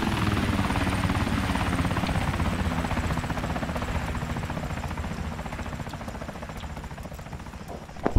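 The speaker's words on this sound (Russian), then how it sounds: "О, самолет, Кирилл." An aircraft flies overhead in a battle royale video game, a loud, continuous, whirring drone that fades slightly as it passes, with no talking.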